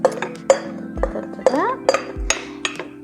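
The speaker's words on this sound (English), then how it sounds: "give that a bit of a mix around, just like a gentle massage, folding all the ingredients together" Carrot cake batter being mixed in a bowl with a wooden spoon, heard as a steady series of knocking and clinking strokes against the bowl at an irregular beat.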